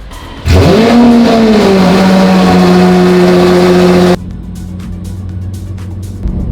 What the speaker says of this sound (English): we're gonna listen to the cold start of the Lamborghini SVJ